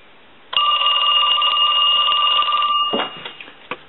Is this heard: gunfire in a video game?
no